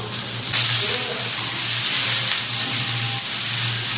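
Cumin seeds crackle and sizzle in hot oil for a potato dish, with a steady, loud hiss throughout and a low hum beneath.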